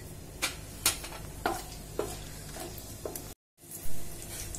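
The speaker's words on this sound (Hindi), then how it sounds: "सबसे पहले मैं इसमें डालूंगी अपने सभी खड़े गरम मसाले और इनको कुछ सेकंड के लिए मैं पकने दूंगी" Whole garam masala spices dropped into hot ghee in a pressure cooker: a soft sizzle beneath a few sharp taps and clinks of a spoon against the pot, close by, with a brief drop to silence near the end.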